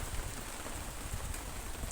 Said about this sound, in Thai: แรงมาแล้วนะคะ ตกหนักมาแล้วล่ะค่ะ